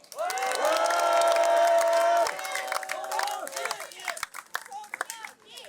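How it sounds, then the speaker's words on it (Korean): An outdoor political rally crowd in front of the Independence Hall of Korea cheers and claps loudly together, a sustained roar for about two seconds that then breaks into scattered shouts and uneven applause. "함성과 박수 다시 부탁드립니다"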